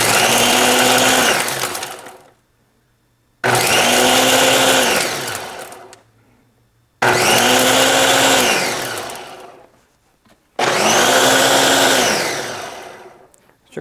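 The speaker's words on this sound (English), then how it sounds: "So let's go ahead and try the ice crush so you can see how it works." A Ninja BN751 blender crushes ice in four separate pulses, each a loud motor roar that rises in pitch as it spins up, runs about two seconds, then winds down into a short pause before the next burst; no talking.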